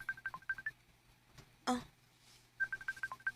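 A phone call is dialed and rings: quick runs of keypad tones, a brief burst of noise, then another quick run of tones, all fairly faint.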